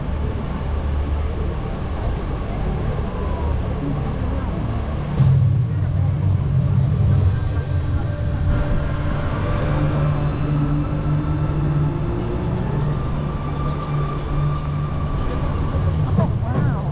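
A steady, dense whirring hum fills the air, like 500 small drones buzzing together at a distance over the Brisbane River during a drone show, with faint voices mixed in.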